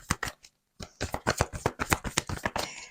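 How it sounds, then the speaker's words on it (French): Tarot cards riffled and shuffled by hand in quick bursts of crisp, papery flutters, close and clear, with a short pause before a longer run of rapid shuffling. "Allez, on va prendre une carte."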